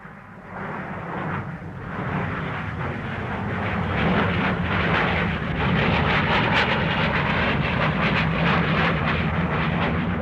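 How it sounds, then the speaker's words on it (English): A Jaguar jet aircraft flies overhead, a loud sustained engine roar that swells and holds steady over about ten seconds, with no voices. "The Jaguar will make its run at first light."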